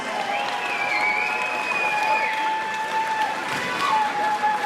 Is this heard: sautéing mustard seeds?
no